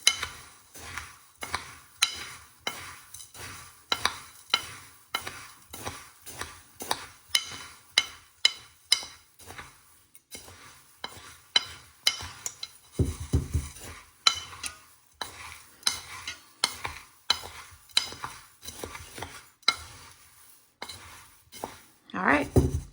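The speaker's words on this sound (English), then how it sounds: "let's stir it up." A spoon stirs a stoveless backpacking meal in a bowl, giving steady, rhythmic clinks and scrapes. The strokes repeat close and fairly loud for the whole stretch, with a brief rustle partway through and no talk.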